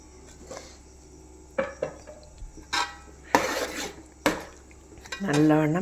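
Jackfruit mixture being stirred in a pan while making kumbil appam, with a spoon scraping and clinking against the metal in several separate bursts, close by, over a quiet kitchen background.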